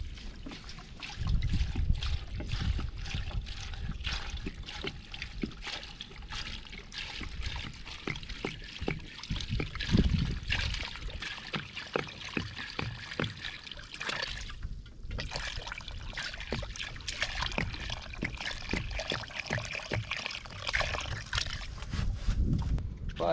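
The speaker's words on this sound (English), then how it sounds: "we're going to top it up with water, so we want it to be in the water" Water is poured and topped up into a pot over an outdoor fire while preparing bush medicine, a continuous trickling and splashing that runs steadily throughout with some clattering.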